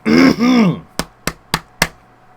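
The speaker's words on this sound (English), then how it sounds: "Let me clear my throat." A drawn-out throaty vocal rasp is followed by four evenly spaced, sharp knocks or clicks, close and fairly loud.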